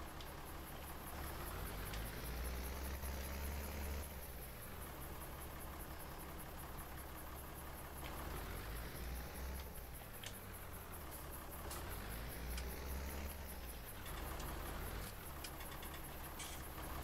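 An old tractor engine idles in Farming Simulator 19, a steady mechanical rumble that swells and eases in a slow repeating cycle, close and constant with no talk.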